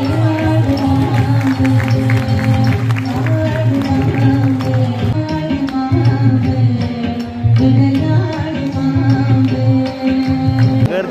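Dense festival crowd at the Upvan Festival in Thane, a continuous loud babble of many voices among stalls with music-like tones running underneath, steady throughout.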